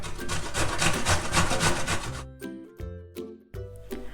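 Pickled cucumbers rubbed against a kitchen grater in a steady run of rasping strokes, then slower, separate scrapes with short pauses between them, close and clear with no talking.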